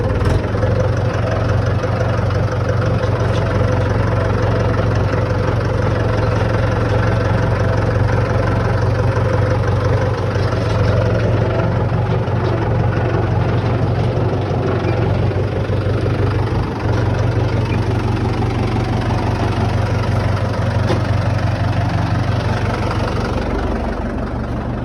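A tractor engine runs steadily at a low, throbbing idle for a long stretch, loud and close, its heavy drone unbroken and with no voices over it.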